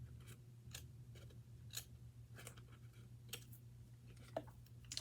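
Scissors snipping material with a series of sharp, irregular close cuts over a low background hum, quiet and without talking.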